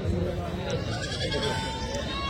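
Female goats call out amid the murmur of a livestock market, their bleats partly buried under nearby talking and background crowd noise.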